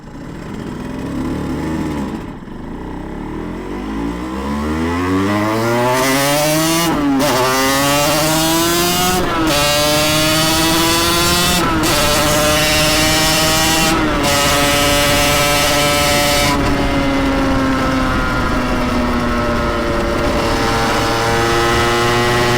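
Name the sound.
Yamaha TZR 250 two-stroke motorcycle engine idling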